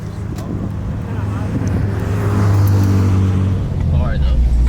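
A 2018 Corvette SS 1LE on the Nürburgring gives a steady, loud engine and road drone heard from inside the car, with people talking over it.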